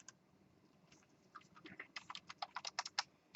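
Code being typed on a computer keyboard: a few scattered keystrokes, then a quick irregular run of close, crisp key taps that grows busier toward the end, fairly faint, with no talking.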